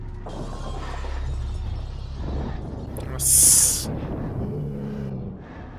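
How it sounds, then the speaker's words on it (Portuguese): An explosion goes off in the video game Nightmare Creatures 2 as a bright, shattering burst with a short rumble, following low game ambience and eerie tones, while someone talks over it. "Aconteceu uma explosão aí."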